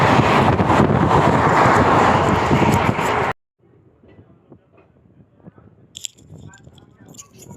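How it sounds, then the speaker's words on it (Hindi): Somnath Jabalpur Express rumbles loudly into Rajkot with broad, dense rolling noise and wind buffeting for about three seconds, then cuts abruptly to quieter interior sounds with scattered clatter and light knocks. "हमारी ट्रेन राजकोट में एंटर हो रही है।"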